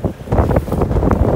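Gusty wind buffets the microphone outdoors during a western mule deer rifle hunt, a loud, uneven low rumble with rising and falling bursts.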